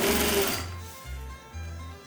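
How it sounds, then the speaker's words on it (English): A sewing machine stitching reflective tape onto fabric runs in short, close, buzzing bursts with brief pauses between them, alone after a loud opening noise. "we cut reflective tapes and sew them on the front apron and flaps of pockets."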